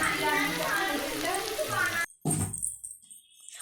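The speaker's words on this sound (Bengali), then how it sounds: "তেল অনেকটা গরম হয়ে এলে এবার দিয়ে দেবো পেঁয়াজ কুচি।" Chopped onions fry in hot oil and ghee for a biryani, with a dense, steady sizzle that cuts out briefly and then returns with some scraping. Someone speaks over parts of it.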